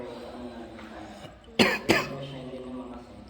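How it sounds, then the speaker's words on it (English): An allergy cough: two sharp, close coughs in quick succession, heard outdoors at a new house in Manila over a low background murmur. "Gotta get rid of this allergy cough."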